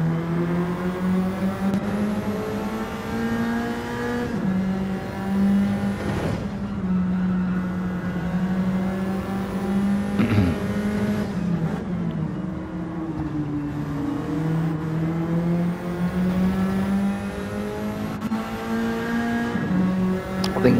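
Nissan Silvia S15 race cars in Gran Turismo 7 hold a steady, loud engine drone close by, the pitch rising and dipping with gear changes and throttle through corners, with no talk over it.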